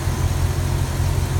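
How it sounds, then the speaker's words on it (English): Engine of a 4.8 S10 truck with a T-5, running steadily with a faint high-pitched whine like a supercharger pulley riding over a loud, constant low rumble, with no one talking. "Hear that wide, that real high pitch, almost like a supercharger pulley whine?"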